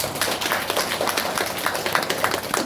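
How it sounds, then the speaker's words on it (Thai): Audience applause from a crowd at a talk, dense continuous clapping with an even, steady texture and no pauses, fairly close and filling the whole moment. "ปรบมือให้พี่แอดอีกรอบหนึ่งเลยครับ"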